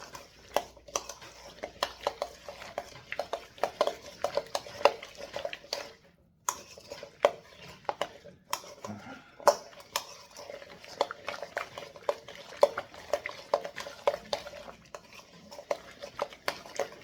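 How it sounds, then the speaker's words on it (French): A recipe with olive oil is mixed in a bowl, with quiet, rhythmic clinks and scrapes of a utensil against the bowl that run steadily and pause briefly partway through. "Maintenant, on peut faire un mélange homogène."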